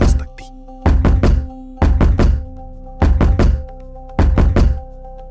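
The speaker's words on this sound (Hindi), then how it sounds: "और फिर किसी ने दरवाजे पर 3 बार दस्तक दी।" Heavy, booming knocks strike a door in repeated groups of thuds, spaced about a second apart and loud against a quiet, tense background hum in an animated horror scene.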